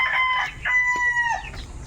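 Chickens cluck in short, close bursts, one bird letting out a longer rising call midway, with brief pauses between the sounds and no voices.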